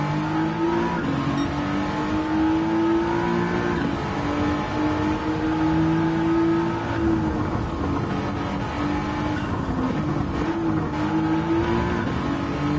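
A race car engine in the Gran Turismo 7 video game drones and revs continuously, pitch rising and falling through gear changes and braking, loud and steady with a whirring edge throughout.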